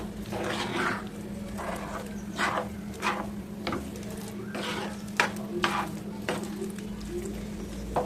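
Thickening bottle gourd halwa stirred in a pan over a low flame, with repeated soft scraping strokes in an uneven rhythm over a low steady hum, moderately quiet and close.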